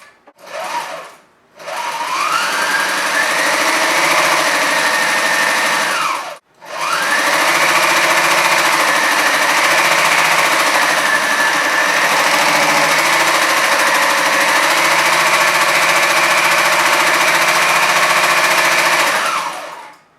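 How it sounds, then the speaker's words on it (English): A mini walking foot sewing machine stitches two layers of thin nylon fabric, a loud close mechanical whirr that runs in short bursts, ramping up and down, then a long steady run. "So the machine stitched this fabric just fine."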